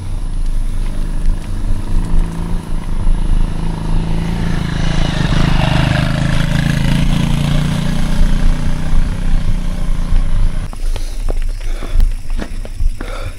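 A motorcycle engine climbing, loud and droning steadily for about ten seconds with a rising strain, then giving way to scattered clatter and rustling near the end; no talk.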